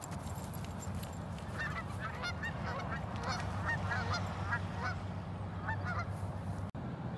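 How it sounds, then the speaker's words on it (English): Geese honk repeatedly near a river, a steady run of nasal calls over a constant background of flowing water and low rumble, no voices. "we got some baby birds there"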